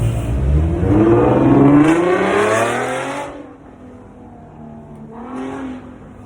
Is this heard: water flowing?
no